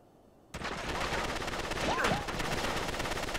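Gunfire erupts in the Uncharted 3 video game, with a sudden burst of rapid shots that settles into sustained loud firing and a swooping effect partway through.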